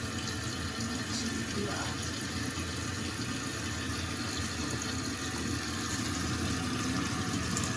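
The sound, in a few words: toilet tank filling with water after valve and flapper replacement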